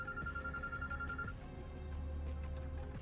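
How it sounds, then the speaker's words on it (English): A phone rings inside the video game Road 96, a steady electronic ringtone tone repeating over a busy, continuous game soundscape with low rumble beneath. "Yo, the phone's ringing."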